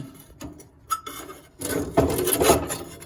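A metal part slides back into place inside a Quadra-Fire Mt. Vernon pellet stove during cleaning, giving a close, broadband scraping and rasping rub that swells after a few quiet ticks and knocks.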